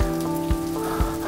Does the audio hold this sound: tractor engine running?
no